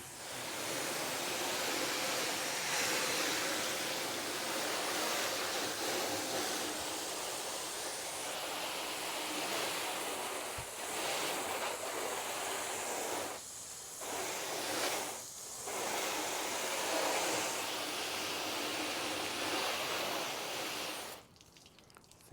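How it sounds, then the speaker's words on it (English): A garden hose sprays a steady broad hiss of water over a ceramic-coated car for about twenty seconds, with a few short breaks in the flow before it cuts off near the end. "So here we go on the rinse."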